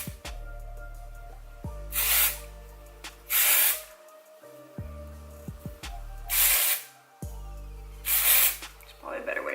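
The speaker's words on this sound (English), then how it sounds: "I apply a little here, and then I kind of just like spray throughout" Four short, loud hissing bursts of a grease-dissolving spray being applied at the roots, separated by pauses, with a person talking between bursts.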